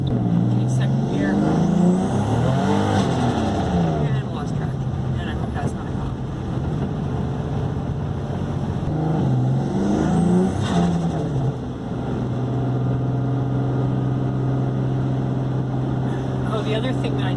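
Turbocharged Ford Mustang with a 4.0 V6 pulling through second gear, a loud steady engine drone with rising and falling harmonics as it accelerates, heard from inside the car with someone talking over it.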